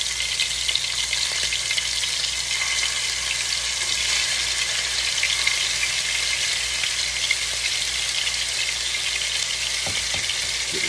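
Ground chicken fries in a hot pan, giving a loud, steady, dense sizzle that runs throughout with a faint low hum underneath and no talking.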